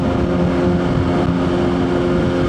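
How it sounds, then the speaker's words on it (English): A Suzuki GSX-R1000 motorcycle with a pieced-together aftermarket exhaust runs steadily up close, its deep rumble sustained and throaty with no pauses. "I pieced together this exhaust"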